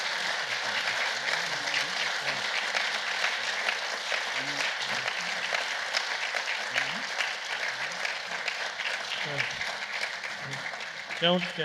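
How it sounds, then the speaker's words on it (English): An audience at a Pebble Beach Concours panel on 1950s American dream cars gives a long round of steady applause, with voices talking over the clapping throughout. "round of applause"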